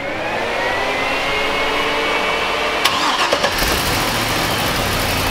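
A Nissan S13 with an LS swap cranks and fires up, its engine starter and rising whine giving way to a loud, rough idle with a few sharp bursts, close by and without talk.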